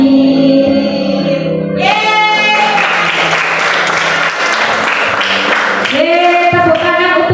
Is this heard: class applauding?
yes